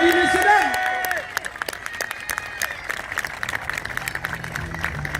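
Audience applause at an evening track demonstration with a motorcycle wearing its rear tyre, a loud burst early that thins into scattered clapping with crowd noise and a short stretch of speech.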